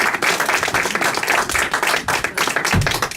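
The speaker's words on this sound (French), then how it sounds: "Les gens peuvent applaudir même ta discrétion." An audience at a comedy show claps in applause, a dense, steady patter of many hands filling the room, close and loud, with a brief low thump near the end.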